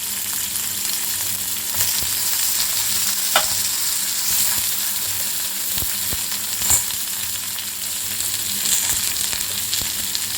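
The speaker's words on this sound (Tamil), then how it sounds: "நல்லா வதக்கிடலாம்" Onions sauté in a pan for mint chutney, with a continuous loud sizzle and frying hiss, broken by occasional light stirring scrapes and taps, and no talking.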